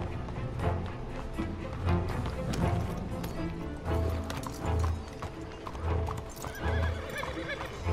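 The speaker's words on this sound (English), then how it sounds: "Maybe I can take my horse." A horse in the video game Red Dead Redemption 2 gallops with steady, rhythmic hoofbeats, and a whinny breaks through near the end, loud and close throughout.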